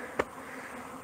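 Honey bees on a cleansing flight buzz in a steady, close swarm drone, with one brief sharp tap near the start.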